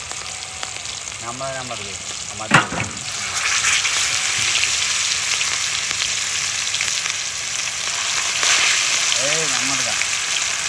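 A large 8 kg king fish fries in hot oil over a village-style cooking setup, giving a loud, constant sizzle with a sharp splash partway through, while voices talk over it.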